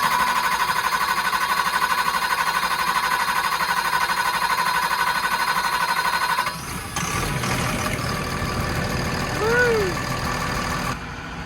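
A machine engine, fresh from a fuel rail repair, runs loud and steady, then its note abruptly shifts and settles into a rougher running sound, outdoors in snow at night.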